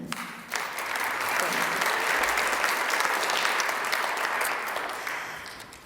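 A pageant audience claps steadily in a full, continuous round of applause that swells and then slowly tapers off toward the end.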